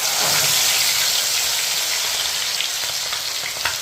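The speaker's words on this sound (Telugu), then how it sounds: "ఇదిగోండి ఆయిల్ వేడి ఎక్కిపోయింది కదండి. ఇప్పుడు మనం అందులో వేసుకుందామండి లాలీపాప్." Chicken lollipops drop into hot oil and fry with a loud, dense, continuous sizzle and bubbling, with a few faint clicks near the end.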